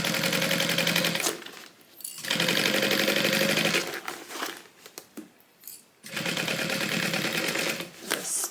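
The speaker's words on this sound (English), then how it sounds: "now we are going to sew this with a 3/8 inch seam allowance" A sewing machine stitches a tote bag seam with a 3/8 inch allowance, running in loud, rapid bursts broken by short pauses, close and clear.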